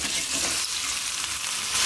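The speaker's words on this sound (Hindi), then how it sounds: "ये जो आलू हमने काट के रखे हैं उबले हुए आलू, ये इसमें डाल देंगे" Cut boiled potatoes fry in a hot pan with turmeric, giving a steady loud sizzle while they are stirred, with scraping stir sounds mixed into the continuous hiss.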